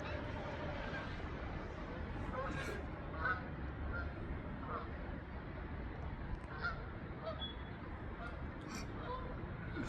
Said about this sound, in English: I was seen off by some wonderful geese